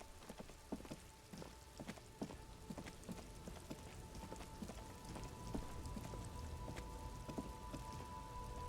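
Rain falls steadily in the video game Disco Elysium, a soft patter of drops with sharper ticks and taps on nearby surfaces under a low hum, quiet and continuous without any voices.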